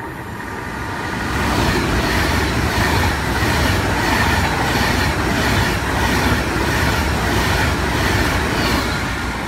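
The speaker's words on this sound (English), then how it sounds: "another express passing platform 4 for Virgin trains class 390" A Virgin Trains Class 390 express runs through platform 4 at Milton Keynes Central, a loud, steady rush of wheels and rail noise that builds within the first second and holds at full strength to the end, with no voices.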